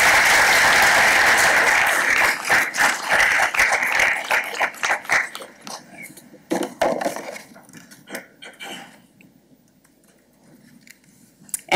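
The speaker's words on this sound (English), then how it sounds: "a big round of applause tonight" An audience applauds a panel at a public policy discussion event, loud, dense clapping for a couple of seconds that thins into scattered claps and fades out.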